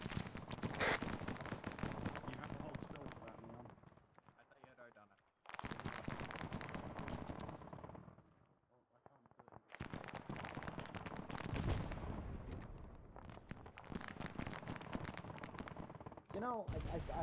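Repeated gunfire in the video game Arma aimed at enemy gunners, bursts of shots close and sharp with brief lulls, mixed with players talking over the action.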